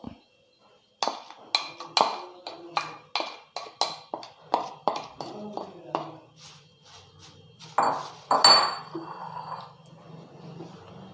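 Flattened rice (aval) is stirred in a hot pan as it dry-roasts, producing a series of sharp scraping taps and clinks from the utensil against the metal in a steady rhythm, close and fairly clear.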